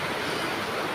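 Floodwater rushing during Typhoon Carina in Sitio Saguingan II, San Isidro, Montalban: a steady, loud, broadband roar of churning water with no breaks, close and continuous.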